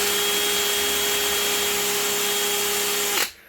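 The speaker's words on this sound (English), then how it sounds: "I'm using a really high speed and I'm barely pushing on the drill" A high-speed drill boring through plastic with light pressure whines steadily for about three seconds, close and loud, then stops abruptly.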